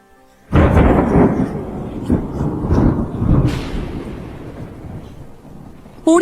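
Thunder with heavy rain, a sudden loud crack that rolls and rumbles for several seconds over a steady rain wash, then a second sharp burst at the very end.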